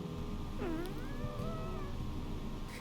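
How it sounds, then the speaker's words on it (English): Kermie, a pet cat sitting on someone's lap, gives a drawn-out, wavering meow-like cry over a soft, steady low background hum, heard close and alone. "that's just my cat Kermie purring on my lap"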